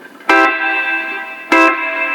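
Two bright, bitey guitar chords ring out through a Quilter amp's reverb, each sharp strike followed by a long shimmering tail that fades slowly, loud and close with no voice over it.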